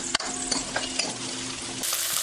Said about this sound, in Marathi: याला आता हलवून घेऊ.